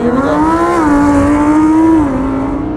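A Tesla Model S Performance and a Lamborghini Huracan Performance launch from standstill. A loud, close engine drone climbs in pitch and dips briefly at each shift before pulling again.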